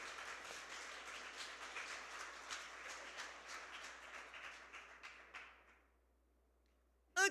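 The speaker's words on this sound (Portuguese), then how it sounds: "Você pode aplaudir ao Senhor por isso?" Church congregation at an evening worship service applauds in a broad, steady wash of clapping that fades out, followed by near silence and a brief sharp sound at the end.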